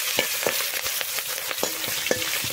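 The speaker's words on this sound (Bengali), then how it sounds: "চিংড়ি মাছটা ভেজে নেব" Prawns fry in oil in a pan, a continuous hissing sizzle with repeated soft knocks and scrapes of a utensil, close and steady, no voices.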